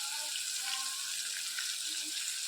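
Chillies frying in hot oil in a home kitchen, a constant bright sizzle throughout with faint tonal clinks and hums underneath, no speech.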